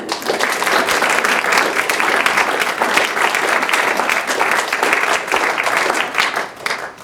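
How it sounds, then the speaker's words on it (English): An audience applauds at a Fall Fest event after an organ performance, steady dense clapping filling the room for about seven seconds, fairly loud and close. "And with that, a final round of applause for Donna and Rosie."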